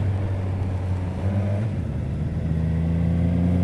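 Suzuki Katana motorcycle engine running steadily up close, a low droning tone with a rising pitch toward the end, loud and continuous with no talking.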